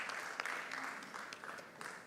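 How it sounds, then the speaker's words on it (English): Applause from an audience at a conference on the human right to adequate food in Uganda, a steady, fairly faint patter of clapping lasting a couple of seconds, heard from a distance in a hall. "Please give her a hand clap as she prepares to get here."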